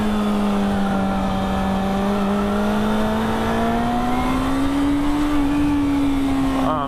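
A Yamaha FZ6 motorcycle engine holding a loud, steady drone whose pitch climbs slowly and then eases back, close and continuous throughout.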